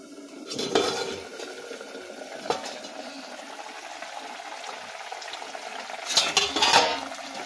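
A metal lid clinks and scrapes off a pan of hilsa fish curry (ilish tel jhal) cooked with green chilies, with a few sharp clatters at the start, a quiet stretch, then a louder rattling clink near the end.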